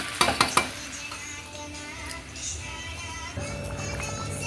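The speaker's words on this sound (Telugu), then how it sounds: "మటన్ ఉడుకుతుంది, ఉల్లిపాయలు అన్నీ వేస్తాను" Fried onions tipped into a pot of simmering mutton curry, with a few sharp clatters of a spoon or ladle against the pot at the start, then steady low bubbling and stirring scrapes, close and moderately loud.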